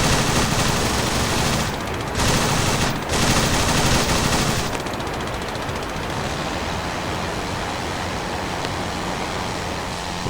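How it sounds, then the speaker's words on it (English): An enemy gunner fires a machine gun in the WWI flight game Rise of Flight, loud sustained rapid bursts over a constant aircraft engine drone, with a couple of brief pauses early on. "Man, that gunner is still shooting at me, even from this angle."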